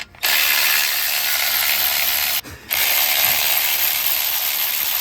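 A hand ratchet spins off a 16 mm bolt from a rear motor mount on a Saab 9-3, giving a steady, close, loud whirring clicking with one brief pause midway and no talk.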